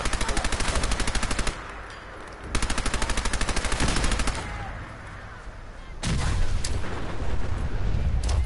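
Tommy gun bursts in Fallout 4 survival mode, rapid rhythmic automatic fire in two distinct strings separated by a pause, followed by heavier booming gunfire, loud and close.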